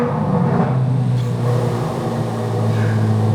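A 2023 Corvette Z06 engine revs hard and loud, holding a strong, sustained roar with a steady pitch and no voices over it.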